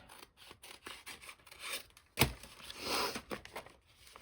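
Scissors snip paper for a creative daily journal in a series of close, crisp cuts and rustles, with one sharper snap midway, fairly quiet with no talking.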